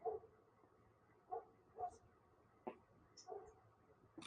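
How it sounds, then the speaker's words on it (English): A dog outside barks and yips in short, separated bursts, faint and distant, with quiet background noise between calls. "I don't know if you guys can hear that dog."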